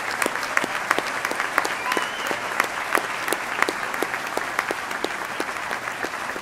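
A graduation audience applauds honors scholar candidates at a Colorado State University liberal arts commencement, with steady, dense clapping from a large crowd that holds throughout at even loudness.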